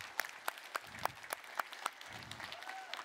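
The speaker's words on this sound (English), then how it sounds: "One more big round of applause for these folks." Conference audience at an OpenInfra Summit keynote in Vancouver applauding, sparse distinct claps over a quiet room with a faint murmur underneath, fairly soft and thinning out toward the end.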